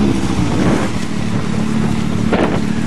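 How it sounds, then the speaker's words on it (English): A Nissan 200SX on a muddy farm revs hard and loud into the rev limiter, a steady close engine roar with a brief stutter near the end. "I guess he should have hit second because he hit the rev limiter too soon"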